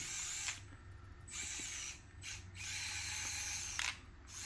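A Sniclo Micro 4X4 RC car's small electric motor whines at half throttle, rising and falling in several surges as the car is driven around a track, close and steady.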